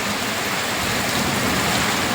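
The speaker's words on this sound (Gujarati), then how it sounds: "આ જે અવાજ આવે એ ભાઈ વરસાદ હરુડવાનો અવાજ આવે છે" Steady, heavy rain drums down on farmland during an unseasonal downpour, a loud unbroken wash of noise with no talking.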